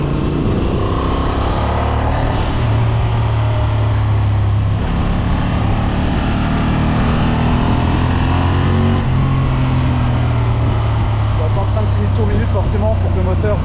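A 2025 Honda Transalp 750 A2 motorcycle engine pulls hard, its loud, close drone rising and falling in pitch through the gears with steady wind rush underneath.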